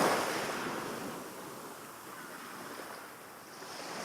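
Ocean waves from a sleep app's nature sounds, a soft continuous wash of surf that swells at the start, eases, and rises again, with no talk over it.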